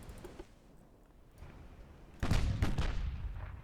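Naval gunfire from warships in the game Ultimate Admiral: Dreadnoughts, a quiet rumbling stretch followed by a sudden loud boom of a salvo that keeps roaring and echoing through to the end.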